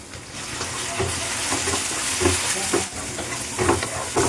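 Tomato sizzles loudly in a pan while a spoon stirs and scrapes at a steady, uneven rhythm, close up with no talking.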